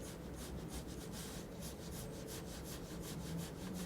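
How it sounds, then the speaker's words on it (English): A pencil sketches a circle on paper for a drawing of a character's head, producing a continuous faint rubbing and scratching with a rhythmic back-and-forth texture, close and quiet. "Alright, so we just start sketching out the circle right here."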